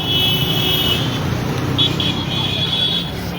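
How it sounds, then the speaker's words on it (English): Dense roadway noise of heavy, slow traffic on Caldwell Bridge in Liberia, a steady broadband rumble of engines with a high whine running through it, close and continuous with no clear horns. "this is a look of the traffic here"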